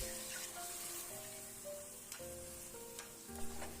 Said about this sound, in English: Now mix it on high flame for a couple of minutes